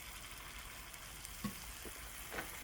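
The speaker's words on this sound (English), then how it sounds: "deep fry in hot oil" Oil sizzles and crackles softly and continuously as flour-coated red bean cakes deep fry at medium-high heat, a few small pops rising above the steady hiss.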